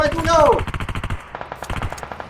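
Rapid automatic gunfire from PUBG Mobile rattles in a steady burst of evenly spaced shots, with a voice speaking briefly over the opening before the shooting continues alone and slightly softer.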